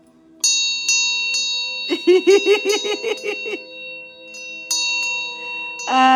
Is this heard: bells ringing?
yes